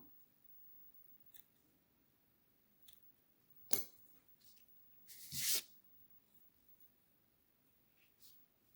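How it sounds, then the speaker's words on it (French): Scissors snip dangling yarn threads from a crocheted geranium bud, heard as a few quiet, isolated cuts with one longer rustling snip in a hushed room and no talking. "je vais couper mes fils qui pendouillent là"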